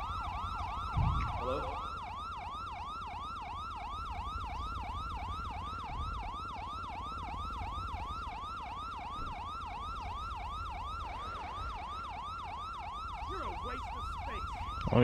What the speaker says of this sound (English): Let me turn off my sirens.